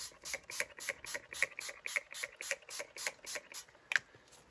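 Coffee dye is sprayed onto paper from a hand pump sprayer: about a dozen quick, faint, hissing bursts in an even rhythm, close by and otherwise quiet.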